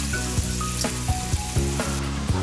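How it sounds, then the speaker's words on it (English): Sausage and bacon frying in a pan in a home kitchen, a close, continuous sizzle with soft crackles and occasional stirring knocks. "I got my hands full right now with the sausage and the bacon is cooking pretty quickly"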